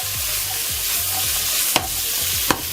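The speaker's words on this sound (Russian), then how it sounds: "быстро начинаем все обжаривать. Сначала идет чеснок, буквально на 20 секунд" Garlic and onion fry in a pan for Chinese-style sweet and sour eggplant, with a constant hiss of sizzling oil and light stirring scrapes, punctuated by two sharp utensil clicks near the end.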